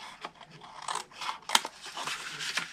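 Scissors cut card along a score line for a foil egg window box, several quiet close snips in an uneven rhythm.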